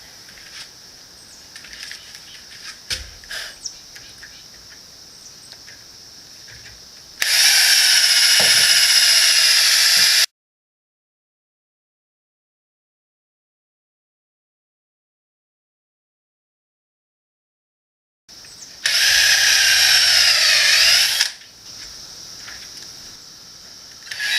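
Power drill countersinking screw holes in wood for plugs: two loud bursts of high whirring and cutting, each about three seconds long, separated by a silence, with faint workshop clatter before them.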